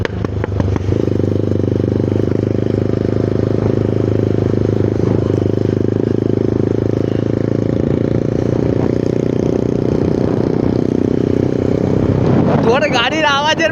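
A motorcycle engine drones loudly and steadily with exhaust roar while riding, a constant close rumble that holds for most of the stretch before shifting near the end.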